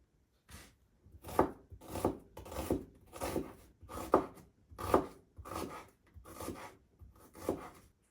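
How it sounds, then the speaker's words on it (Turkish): A knife cuts onions into rings on a board, about ten crisp, evenly spaced chopping strokes, close and quiet with no talk. "Soğanlarımı halka halka doğruyorum."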